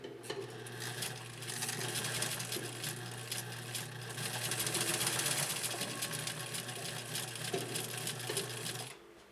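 A 1956 Atlas sewing machine labors through two layers of cowhide, its motor humming steadily with a dense mechanical clatter and a strained, continuous drone that runs unbroken for about nine seconds before stopping.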